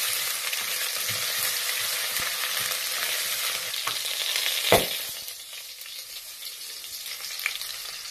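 Ginger, garlic and green chilies, pounded together, fry in a hot pan with curry leaves for coconut rice, giving a steady close sizzle with faint stirring scrapes and one sharper crackle partway through.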